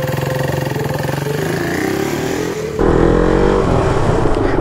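A motorcycle engine rumbles steadily up close, then revs harder partway through into a louder, sustained roar.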